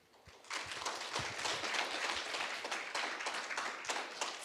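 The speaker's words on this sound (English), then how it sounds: "Please give Panel 1, 3, and 5 applause." A forum audience at a youth forum closing ceremony gives steady, moderately loud applause for presenting panels, dense clapping starting after a brief quiet moment and continuing throughout.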